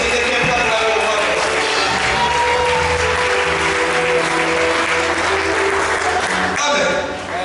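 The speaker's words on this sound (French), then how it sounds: "Est-ce que quelqu'un peut acclamer le roi?" A church congregation at a Sunday worship service bursts into sustained loud applause and cheering acclaim, a dense roar of clapping and voices filling the room for several seconds before easing slightly near the end.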